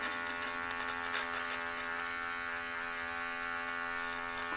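A Lumberjack electric body hair trimmer runs steadily with a close, even motor buzz and strong tonal hum. The sound is constant for several seconds without pauses or talking.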